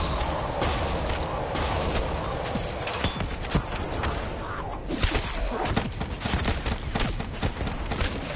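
Video game gunfire crackles in dense, rapid bursts across a loud, busy scene, the shots running together with thuds and whooshes in a continuous barrage.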